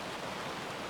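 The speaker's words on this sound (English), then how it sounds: "rain on glass" Minecraft rain pattering on glass blocks with the Cool Rain mod: a dense, even hiss of rainfall, steady and fairly soft, heard alone for under a second.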